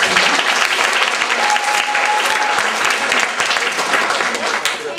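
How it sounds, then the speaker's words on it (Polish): Loud, sustained applause from an audience at a children's and youth song festival, a continuous wash of many clapping hands with a faint voice beneath it. "Brawa"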